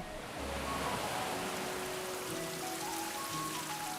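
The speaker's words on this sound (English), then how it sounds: "And the rain. Yes, it rains here a lot." Steady rain falling, a dense even hiss of drops on surfaces that stays constant throughout with no voices.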